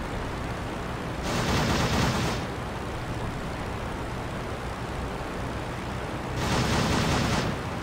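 Machine-gun fire from WWI biplanes in a dogfight video game, with a Sopwith Triplane and an RE8 in the air: two short bursts of rapid gunfire stand out over a steady engine drone, one early and one near the end.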